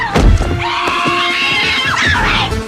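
A woman in an action movie lets out a long, loud, high scream over a dense soundtrack of thuds and commotion, close and sustained for most of the clip.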